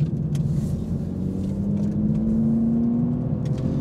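An Aston Martin V12 Vantage Zagato pulls hard out of a corner, its V12 engine note rising steadily in pitch as it accelerates, a loud continuous drone with no talk over it.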